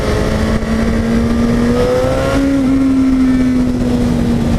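Engine of a 2015 Suzuki GSX-S750 motorcycle held at high revs while riding, a loud near steady whine that climbs slightly in pitch and then holds.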